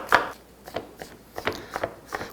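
Onion being coarsely chopped with a knife on a cutting board, a series of about eight sharp, close knocks in an uneven rhythm with no voices.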